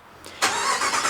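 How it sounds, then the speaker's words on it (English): A Ram Rebel pickup truck engine starts by key fob remote start, a brief cranking whir followed by the engine catching and settling into a loud, steady idle close by. "starts up the truck for me"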